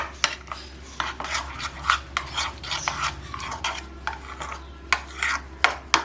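Mayonnaise and chili sauce being mixed into a paste for chicken shawarma, heard as repeated close scraping and rubbing strokes of a spoon against a bowl, with sharper taps scattered throughout and no talking.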